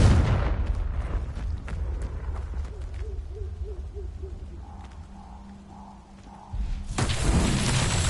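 Confringo blasting spells cast in the game Hogwarts Legacy: a loud, close burst of fiery explosion at the start, a quieter stretch with faint hooting tones, then another roaring blast that swells and holds to the end.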